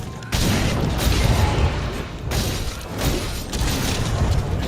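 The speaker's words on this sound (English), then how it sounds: "That explosion was so powerful it killed my audio for a second." A powerful explosion in Monster Hunter World lands as a sudden loud broadband blast, followed by several seconds of dense rumbling crashes and debris-like clatter with no speech over it.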